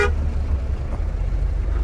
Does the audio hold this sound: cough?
no